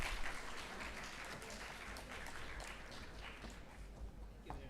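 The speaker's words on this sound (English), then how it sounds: "Big round of applause, everyone." Audience applause at an India–Japan education conference, a steady dense patter of many hands held at a fairly low level for about five seconds, with faint voices in the room.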